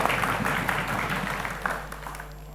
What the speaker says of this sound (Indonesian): kita mau dengar tepuk tangannya sekali lagi